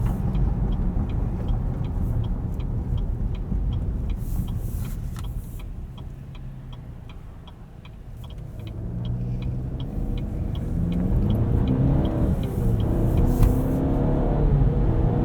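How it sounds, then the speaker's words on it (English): A 2023 Cadillac XT4 AWD pulls away hard, its engine rumbling and rising as the front wheels briefly spin before the rear axle engages, heard steadily from inside the cabin with no talking. "getting some wheel spin from those front wheels before the rear axle kicks in"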